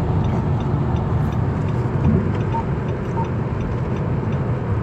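A Nissan Qashqai accelerates, heard from inside the cabin as a steady, dense engine and road rumble, constant and fairly loud with no speech.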